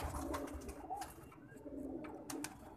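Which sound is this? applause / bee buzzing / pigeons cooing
pigeons cooing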